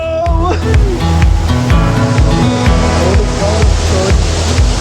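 Strong, steady rush of water at Pagapeden Falls in General Nakar, Quezon, a loud continuous roar with some low broadband surges, no talk.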